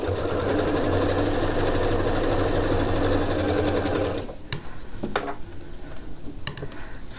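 Sewing machine stitching fabric for a reversible tote bag, a steady loud whirring run for about four seconds that stops abruptly, followed by quiet clicks and small handling taps.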